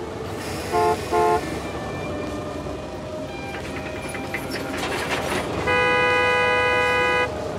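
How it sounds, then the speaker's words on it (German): In the Gas Station Simulator video game, a car horn sounds two short honks near the start, then a longer sustained blast toward the end, with engine and background game noise in between. "Jetzt hupt er mich noch an"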